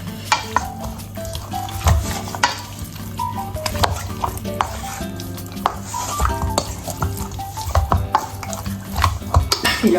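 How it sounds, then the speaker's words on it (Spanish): A wooden spoon stirs and mixes ingredients for pollo alla diavola in a bowl, giving close, irregular scraping and clacking strokes over a faint sizzle. "agarramos una cuchara de madera, mezclamos todos los ingredientes"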